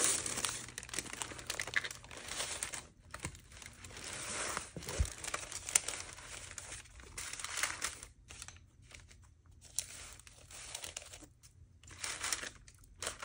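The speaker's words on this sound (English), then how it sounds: "I take my parchment paper and lay it down, you know, on the next page" Parchment paper crinkles and rustles as it is handled and laid down on a sketchbook page, a quiet, close, irregular run of crackling bursts with brief pauses between.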